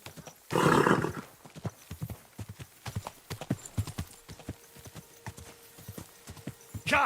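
Horse hooves clip-clop in an uneven walking rhythm in Kingdom Come: Deliverance II, close and clear, opening with a brief burst of snorting or whinny-like noise and ending with another short burst.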